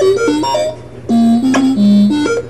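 Circuit-bent Speak and Spell toy emitting glitchy electronic tones whose pitch jumps in steps, loud and close over a constant low buzz, in short wobbling bursts.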